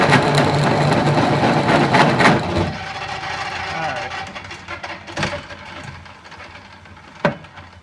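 A lathe parting blade cutting dry at about 250 RPM with heavy chatter, a loud rough grinding rattle that cuts off after a few seconds, followed by quieter mechanical hum and a few sharp knocks.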